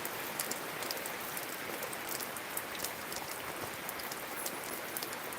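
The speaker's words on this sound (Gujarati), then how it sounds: "એવો વરસાદ આવી ગયો છે" Steady rain falling in a farming village, a dense even hiss of drops with scattered sharper patters, continuous and fairly close with no talking.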